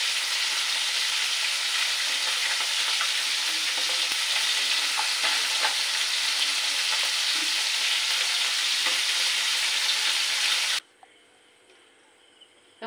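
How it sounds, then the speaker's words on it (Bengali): Puti and ilish fish fry in a pan of oil with a loud, dense, even sizzle close by, with a few stirring scrapes, cutting off abruptly to near silence near the end. "তো বন্ধুরা, আমার এই পুঁটি ইলিশ ভাজা হয়ে গেছে"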